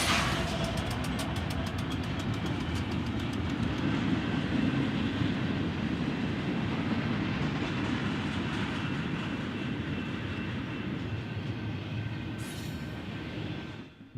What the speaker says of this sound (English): including this westbound intermodal train